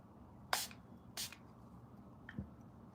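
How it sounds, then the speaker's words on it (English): Two quick bursts of water from a spray bottle during a makeup and costume transformation, about half a second apart, soft and close, then a faint third puff with a low thud, over quiet room tone. "So I'm gonna be wetting it with spray."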